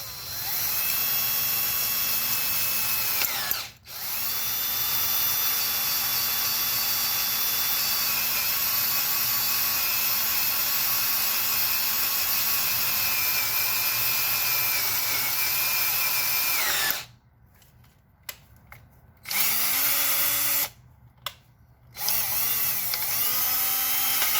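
Power drill boring into the metal of an intake manifold on a 2003 Toyota Tundra 4.7 V8, a steady high whine held close up, stopping briefly several times and restarting.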